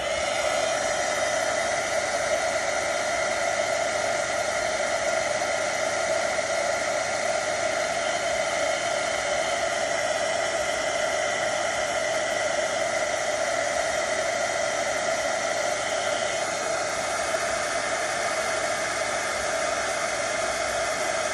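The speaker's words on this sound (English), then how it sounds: "And get my heat gun." A craft heat gun blows steadily while embossing a Christmas tree card, a continuous loud hissing whoosh with no break and no talk.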